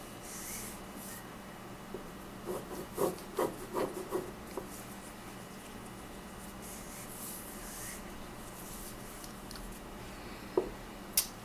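Hands rubbing a candle while dressing it, a soft intermittent dry friction with a cluster of brief scrapes midway and a couple of sharp taps near the end, quiet and close with no talking.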